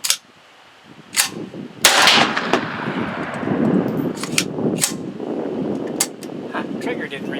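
9x18 PM-63 Rak or Vz.61 Scorpion semi-auto pistol firing outdoors, sharp loud cracks spaced irregularly across several seconds with a rolling echo after each, and people talking in the background between shots.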